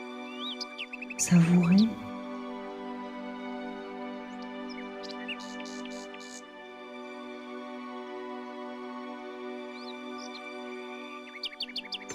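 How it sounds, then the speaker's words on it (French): Birds chirping softly and intermittently in short high trills, faint and distant behind a sustained droning tone, with someone speaking gently near the start. "Profitez de ces chants d'oiseaux."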